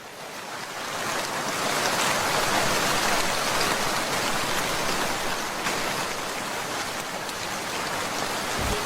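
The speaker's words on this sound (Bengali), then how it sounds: "তোরা গিয়েছিস আর ঝড় বৃষ্টি শুরু হয়েছে" Heavy rain in a storm rushes steadily as a dense, loud wash of noise, with no voices present.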